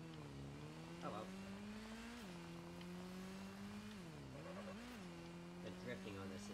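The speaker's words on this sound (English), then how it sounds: "The drifting on this is absolutely awful." A car drifting in the Gotham Knights video game, its engine drone holding steady and dipping and rising through slides, with faint tire noise and a voice talking over it throughout.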